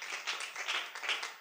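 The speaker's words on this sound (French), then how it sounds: "Est-ce qu'on peut acclamer le Seigneur?" A church congregation breaks into steady applause to acclaim the Lord, dense, continuous clapping filling the room without pause, fairly loud and close.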